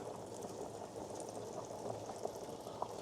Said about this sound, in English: put it into the pan and then just start frying it